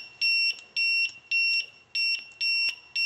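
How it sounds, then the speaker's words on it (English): A circuit continuity tester sounds a shrill electronic beep tone each time the probe ends connect, repeating six times in quick, regular pulses with brief gaps, loud and close with no talk. "when the two ends are connected, you get tone, which lets you know that you have a complete circuit"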